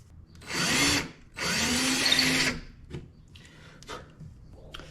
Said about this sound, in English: I'm just gonna drill slightly lower.